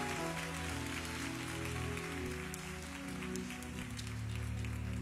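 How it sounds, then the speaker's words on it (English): A church congregation clapping their hands in praise, a dense continuous patter of many hands, heard somewhat distantly beneath a sustained organ or keyboard chord backdrop. "Come on, clap your hands and praise God."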